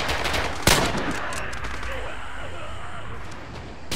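Gunfire in the World War II shooter Red Orchestra 2: a sharp, loud shot cracks out early, then a dense, continuous rattle of distant automatic and rifle fire carries on under a noisy battlefield ambience.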